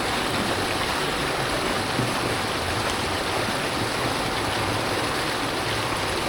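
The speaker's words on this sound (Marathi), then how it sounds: "बघा आपला पाणी झालेलं आहे चालू" Water pours steadily through an irrigation channel in a Konkan village, a constant dense rushing wash with no pauses, close and fairly loud.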